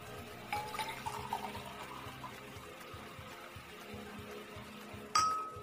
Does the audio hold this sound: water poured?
yes